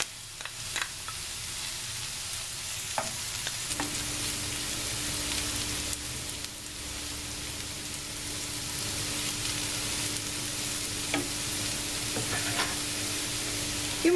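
Sucuk sausage fries with roasted peppers, salt, red pepper and black pepper in a pan, giving a steady, close sizzle with occasional stirring scrapes and clicks and a faint constant hum throughout.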